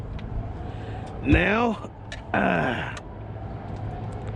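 A Traxxas Slash 2WD RC truck with a Maclan DRK160 motor on a PowerHobby 100C LiPo revs in two short, loud bursts of rising and falling electric whine while warming its tires, with a brief word spoken just before.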